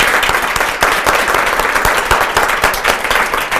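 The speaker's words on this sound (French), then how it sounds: "Ils vont s'applaudir." A studio audience applauds on a television set, loud dense clapping from many hands that holds steady throughout without a break.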